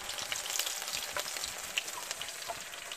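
Mojarra fish frying in hot oil, a steady dense sizzle with scattered small pops, moderately quiet and continuous, no voices.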